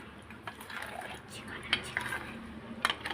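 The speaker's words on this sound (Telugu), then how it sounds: "ఇలా లంప్స్ లేకుండా బాగా కలుపుకోవాలి." A spoon stirs a tomato soup mixture in a pot to work out the lumps, giving a soft scraping swirl broken by a few sharp metallic clinks against the pan.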